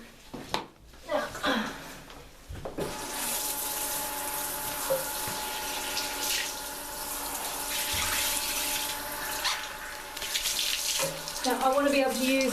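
Cleaning sponge rinsed under a running tap, a steady close rush of water into a sink that starts after a few seconds and continues, with a person talking over it.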